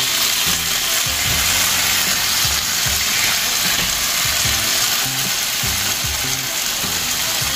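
Ketchup goes into a hot frying pan, setting off a loud, continuous sizzle with bubbling and stirring scrapes throughout.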